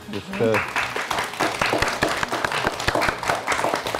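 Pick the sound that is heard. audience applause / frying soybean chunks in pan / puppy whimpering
audience applause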